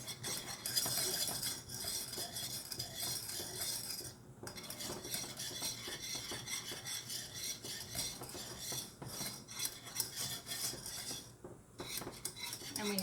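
A utensil stirs a sauce of butter, cream and brown sugar in a pot, producing constant close scraping and clinking against the pan with short pauses, alone without talk.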